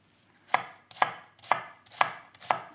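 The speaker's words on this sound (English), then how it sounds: "now we're gonna start slicing our onion" A knife chops through a medium red onion on a board, five crisp evenly spaced strikes about half a second apart, close and clear with no voices.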